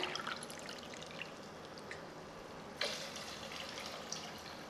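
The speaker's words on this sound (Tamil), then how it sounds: "இப்போ 5 தண்ணி ஊற்றிட்டேன்." Water is poured into a cooking pot while making bisibelabath (sambar rice), five tumblers in all. It comes as a soft, steady splashing stream, fairly faint, with a brief louder surge partway through and no voices.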